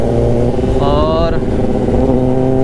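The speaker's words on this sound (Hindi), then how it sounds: "ये है इंडियाज़ की लाउडेस्ट ZX10R।" A Kawasaki ZX-10R sport motorcycle engine runs loud and close, with a brief rising rev in the middle before settling back to a deep idle.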